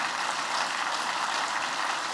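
An audience applauds at a New York infrastructure and transportation event, with steady dense clapping continuing throughout at moderate loudness.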